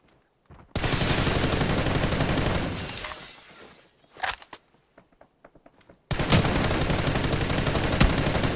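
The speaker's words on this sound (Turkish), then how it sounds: "Ya bak adamı 35 defa sıktım." Automatic gunfire in the mobile shooter PUBG New State: a long dense burst of rapid shots, then scattered single shots, then another sustained loud burst near the end.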